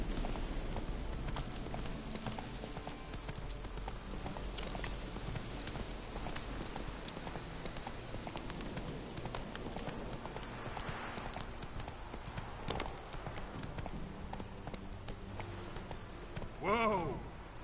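Hooves of the horse Roach gallop in a steady, loud clip-clop rhythm in a video game, with music or ambience underneath and a brief rising whinny-like burst near the end.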